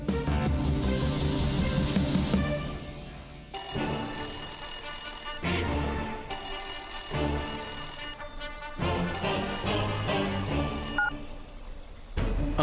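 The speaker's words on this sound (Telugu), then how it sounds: "ప్రకాష్, మీ ఫోన్ కోసమే చూస్తున్నాను." A telephone bell rings in repeated bursts with short pauses between them, loud and close, with music-like background underneath and no talking.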